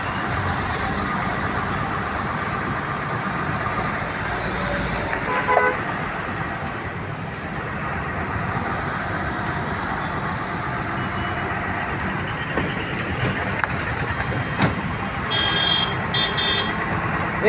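Dense roadside traffic jam at Chandrapada, cars, trucks and a bus idling and creeping along in a continuous loud rumble, with a few horn toots and beeps breaking through now and then.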